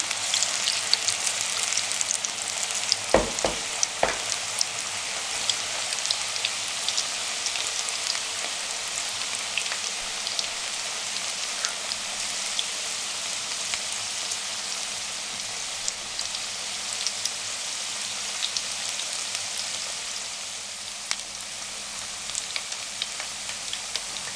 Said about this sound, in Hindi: मीडियम फ्लेम पे हम इनको फ्राई करेंगे।